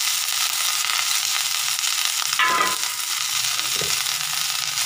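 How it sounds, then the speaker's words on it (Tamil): Washed curry leaves sauté in a pan while their moisture cooks off, producing a loud, dense, continuous sizzle up close, broken by a couple of brief stirring scrapes, with no talk. "கராப்பிளை கழுவி வச்சுருக்கோம், அதோடய ஈரம் போகிற வரைக்கும் அதை வந்து வதக்கிக்கிறோம்."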